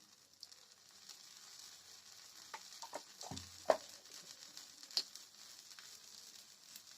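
Wheat adai sizzles softly in oil on a pan, a faint steady crackle with a few light taps and clicks near the middle, quiet and close with no talk.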